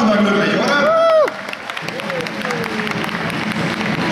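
Applause and crowd noise after a men's doubles final, a dense steady clatter that runs throughout, with a voice speaking over the start.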